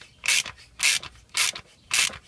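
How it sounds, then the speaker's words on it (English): A hand tap cuts threads for a Helicoil insert in a transmission case, making four evenly spaced rasping scrapes about half a second apart, close and dry, with no talking. "now I'm just cutting threads for the Helicoil to go in"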